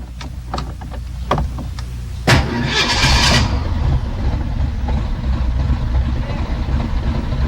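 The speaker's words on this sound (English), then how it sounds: "And we've started our Ford." An old Ford car's engine is started by a hot-wire or column method: a few clicks and rattles, then a sharp crank that catches and settles into a steady, close rumbling idle.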